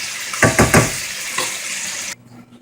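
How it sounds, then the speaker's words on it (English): Chicken fettuccine alfredo turned over in a pan, a loud close sizzle and hiss with a few scraping stirs near the start, cutting off abruptly near the end. "I'm just kind of rolling it around in the pan, just one last turn before I serve"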